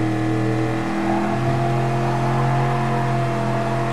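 In Gran Turismo Sport, a Chevrolet Camaro engine revs loud and steady with short gearing, its pitch dipping briefly and then climbing through a quick shift, heard alone with no talk.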